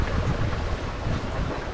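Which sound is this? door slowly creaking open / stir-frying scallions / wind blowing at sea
wind blowing at sea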